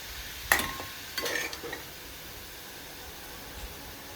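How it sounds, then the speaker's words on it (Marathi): Sweet stuffing sautéed in a pan, with a few scraping stirs of a utensil early on over a faint, continuous sizzle that fades to quiet, no voices. "चार ते 5 मिनटं चांगलं परतल्यानंतर आपले हे सारण रेडी आहे."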